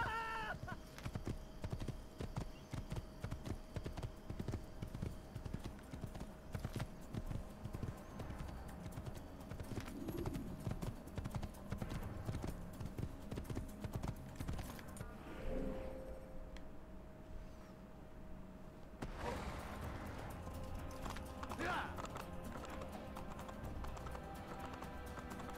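Horse hooves clip-clop in Assassin's Creed as a mount trots and gallops, a brisk, regular rhythm that runs for most of the stretch, then briefly drops away before picking up again.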